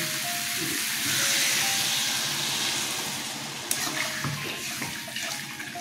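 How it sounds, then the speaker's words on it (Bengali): Water poured into a hot pan of frying vegetables with brinjal for a Bengali curry sizzles and hisses in a broad steady rush, then settles into softer bubbling with a few clinks near the end. "আমি এখন জল দিয়ে দিচ্ছি।"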